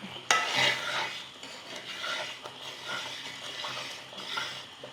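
Spoon scraping and stirring parippu payasam with ghee in a pot, a close, continuous soft rasping swirl with a sharp knock at the start, no voices.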